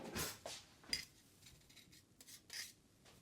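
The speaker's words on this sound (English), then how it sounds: "you can buy a Microplane and be able to grate your garlic very fine, just like this" Garlic is grated finely on a Microplane: quiet, close rasping scrapes in short irregular strokes, about half a dozen over a few seconds, with no talking.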